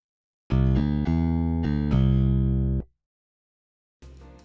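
Dry bass guitar DI signal from a plugin, plucked as a run of clean, sustained low notes that change pitch every half second or so, then a pause before one more note begins.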